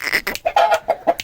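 Aseel rooster giving a short burst of loud, close clucks, five or six quick choppy notes in a row, heard on its own.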